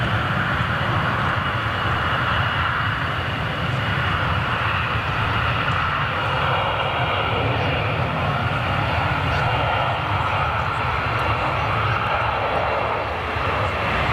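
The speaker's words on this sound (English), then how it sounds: "Heavy reverser action from the 737 Ryanair comes off of them" Ryanair Boeing 737 landing with heavy thrust reverser use, a broad, loud, sustained jet roar that stays steady for the whole stretch without talk.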